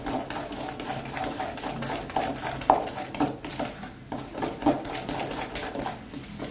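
Two French dessert preparations, one chocolate-based, are mixed together in a bowl, giving a steady run of scraping, clinking utensil taps against the bowl, with no talking.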